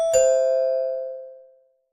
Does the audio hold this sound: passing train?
no